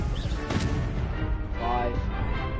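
Confringo blasting spell cast in the video game Hogwarts Legacy, a sharp burst followed by a rumbling explosive crash, with game sounds and a voice around it.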